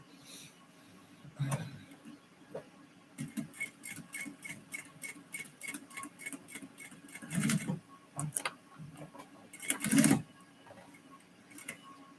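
A sewing machine stitching up close in rapid rattling bursts, separated by pauses and a few louder clunks, with no talk.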